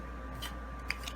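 Scissors trim paper for a handmade donut-themed card, making a couple of faint, quick snips close by in a quiet room.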